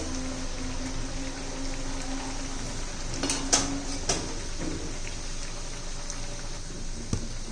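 Carrot poha cutlets sizzle steadily in oil in a pan, a soft continuous frying hiss broken midway by a few light clinks and scrapes as they are turned over.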